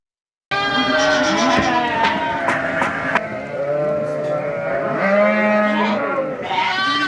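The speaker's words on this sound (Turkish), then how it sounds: "Kuzular, kokusu ve sesi sayesinde yüzlerce koyun arasından annelerini buluyor" A loud chorus of sheep and newborn lambs bleating over and over, hundreds of animals calling at once at close range, with a steady crowd hubbub underneath.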